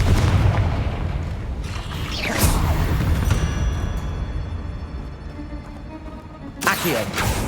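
A Confringo blasting spell detonating in Hogwarts Legacy, heavy booming blasts with bright crackling bursts at the start and again near the end, over a continuous rumbling game soundscape.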